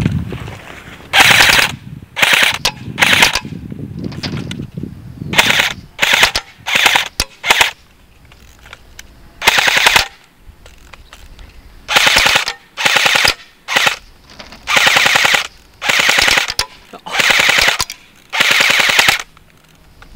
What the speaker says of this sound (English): Now we're going to be doing the 50-foot automatic test.